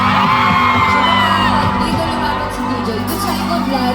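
A loud concert crowd in Las Vegas roars and yells continuously, voices blending into a dense wall of cheering and shouting with some whoops rising above.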